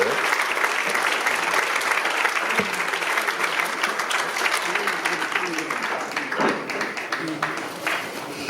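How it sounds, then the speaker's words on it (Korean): Applause at a Presbyterian church general assembly, a sustained, fairly loud round of clapping from a seated congregation in a hall, continuing evenly for several seconds with faint voices underneath. "박수해 주시기 바랍니다."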